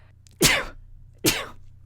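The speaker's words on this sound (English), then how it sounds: "Hang on. I gotta sneeze." Two sharp, explosive allergy sneezes close to the listener, separated by a brief quiet pause over a low hum.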